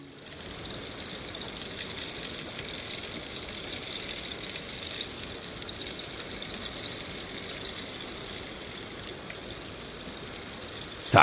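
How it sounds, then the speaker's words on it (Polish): A rain stick gives a continuous soft hiss of countless tiny pattering grains, steady and fairly quiet throughout, heard alone. "Tak brzmi kij deszczowy."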